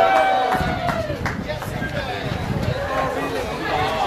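A packed outdoor awards-show red carpet carries loud, continuous crowd chatter, with overlapping voices, shouts and scattered claps in a dense, echoing hubbub.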